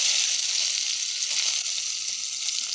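Onions hitting hot oil in a wok, seasoned with fenugreek seeds and bay leaf, give off a loud, steady, close sizzle that holds without a break and has no voices over it.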